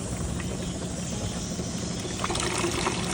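Water running from a water heater drain valve through an attached hose, a steady trickling, pouring rush that swells slightly toward the end, with no talking.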